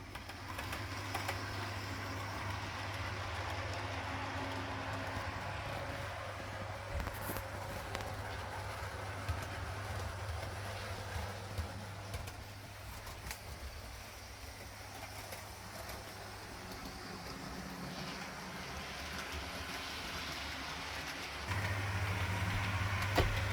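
A Railroad Class 43 model train runs around its track with a steady, low electric motor hum and faint clicking over several seconds. The hum grows slightly louder near the end. No one speaks.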